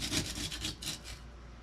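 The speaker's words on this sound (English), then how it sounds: "We'll start doing a little bit of scraping here." A rough rasping scrape of sprayed-down scenery material, like ground cover or gravel on a model railroad layout, in a few close, quick strokes that then fade.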